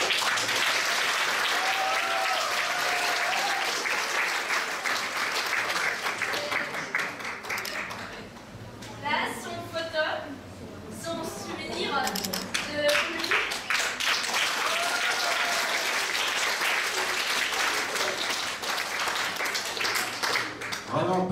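An audience claps loudly and steadily at a French school performance, with a dip in the middle where speech briefly comes through before the applause swells again and carries on.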